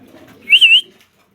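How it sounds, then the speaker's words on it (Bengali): A female pigeon gives a single short, bright call lasting under half a second, close and clear against a quiet background. "এটা হচ্ছে একটা মাদি কবুতর"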